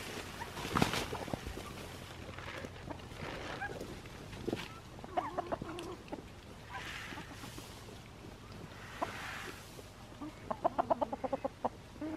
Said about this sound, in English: The turkeys are back in turkey jail.